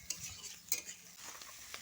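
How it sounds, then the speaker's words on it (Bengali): Chopped onion frying in a pan hisses faintly with a few quick stirring scrapes and clicks, quiet and close, without any voices. "দিয়ে পেঁয়াজটাকে আমি ভালো করে ভেজে নিচ্ছি।"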